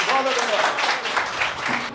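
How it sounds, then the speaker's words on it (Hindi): An audience claps for a speaker at a skill-development program event, a dense burst of applause under a loud voice talking over it, tapering off toward the end. "तरुण जी के लिए जोरदार ताली।"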